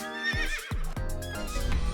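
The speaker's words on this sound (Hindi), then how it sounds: "कितना प्यारा घोड़ा है" A horse neighs close by, a short whinny that slides down in pitch, followed by low snorting and heavier breathy sounds over about two seconds.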